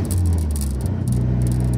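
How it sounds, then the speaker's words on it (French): A steady low engine drone from a moving car with a light metallic rattling and buzzing from a vibrating license plate running through it, continuous and fairly loud. "Désolé pour la plaque qui vibre."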